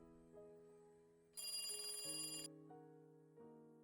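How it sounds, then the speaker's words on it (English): A desk telephone rings in a bright electronic burst of about a second, set over soft sustained background music that continues before and after. "The phone on the desk rang,"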